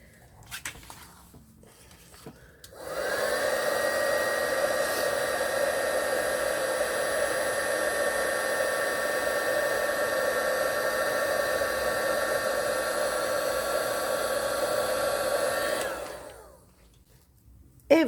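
A heat gun blows steadily for about thirteen seconds to melt embossing powder on a stamped paper card, a loud, even whoosh with a faint whine that switches on and cuts off sharply, with no talk.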